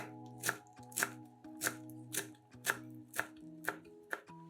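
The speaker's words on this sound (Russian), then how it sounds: "Мелко нарезаем пучок петрушки." Knife finely chopping a bunch of parsley on a cutting board, nine crisp, evenly spaced chops in a steady rhythm, close and clear with no talk.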